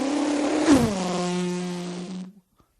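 A single voice imitates a drag racing car, one close, drawn-out droning engine roar lasting about two seconds before cutting off abruptly.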